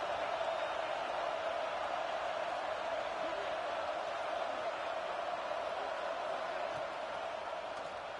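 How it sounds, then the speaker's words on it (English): A roaring stadium crowd in a college football video game, Tennessee at home against Oklahoma during a red zone defensive stand, forms a steady, even wall of cheering noise that holds constant from start to finish. "This crowd is trying to inspire this defense to make a big red zone stop."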